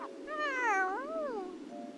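A cat gives one close, clear meow with a rising and falling wavering pitch, lasting over a second against a quiet background.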